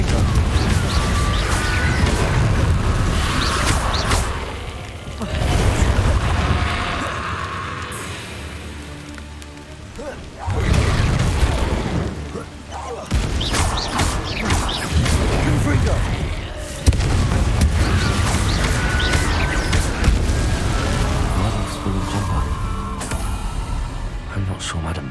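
Confringo and other spell blasts go off in Hogwarts Legacy gameplay as a run of heavy booms and crashing bursts, separated by short lulls, with in-game voices speaking between them.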